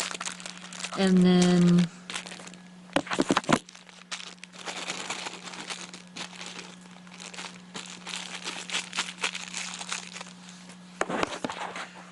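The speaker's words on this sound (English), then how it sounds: "I gotta remove a small portion of the adhesive tape" Adhesive tape backing crinkles and peels off an LED light strip in short, close, papery bursts of crackling spread through the clip, with a brief voice speaking near the start.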